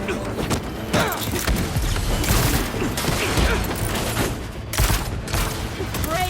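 Sustained rapid gunfire from Marvel's Spider-Man 2 on PS5, dense bursts of shots and clattering mechanisms filling the whole stretch, loud and close with a few heavier cracks.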